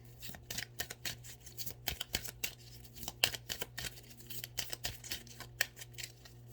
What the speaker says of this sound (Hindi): एंड फिर एक दफ़ा मैं फिर शफल कर लूँ ताकि सेम कार्ड ना निकलें।